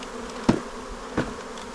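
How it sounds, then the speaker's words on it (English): Honeybees just shaken out of a package into a backyard hive buzz in a steady close drone, broken by two dull thumps of the box being knocked; no speech. "Just dump all those bees in there."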